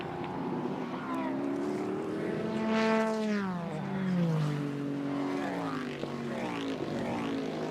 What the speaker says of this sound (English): All the different engine notes, even more important now in the dark, guessing what car it is going by.